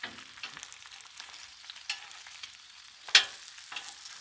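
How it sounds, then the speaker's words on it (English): Thick bacon sizzling on a Blackstone griddle, a steady close frying hiss with one brief louder crackle partway through. "This is thick bacon, so it's taking a little longer."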